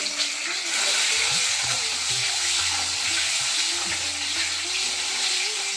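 Eggs fry in a hot pan with black cumin seeds, a steady broadband sizzle running throughout at close range, with a few low clunks and scrapes of stirring underneath.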